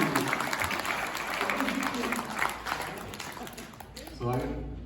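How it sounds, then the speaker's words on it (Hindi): Audience applause at a Hindi comedy poetry gathering, fairly faint and uneven. A voice comes in near the end as the clapping fades. "एक बार जोरदार तालियां बजाइए विशुद्ध हास्य कविता और आनंद।"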